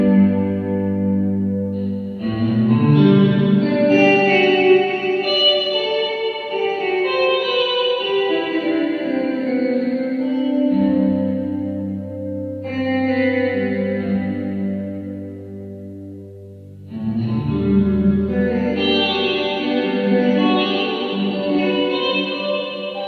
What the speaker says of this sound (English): quite an intense plate reverb, I think? Yeah, plate reverb, but with no dry signal in it at all